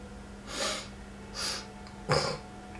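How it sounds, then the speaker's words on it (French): A person sniffing during a French gaming session, three short breathy nasal sniffs spaced about a second apart, close and fairly faint over a quiet background hum, the last one sharper. "je renifle un peu"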